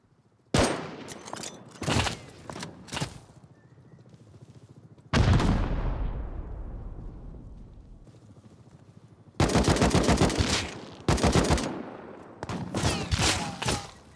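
Gunfire in the survival video game Rust: loud bursts of rapid automatic fire separated by gaps, with one heavy shot trailing off in a long echo, then several more sustained volleys near the end.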